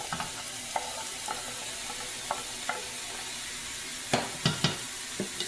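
Onions added to a pan with browning on the bottom, a steady close sizzle with occasional clicks and scrapes of stirring, louder spoon knocks near the end.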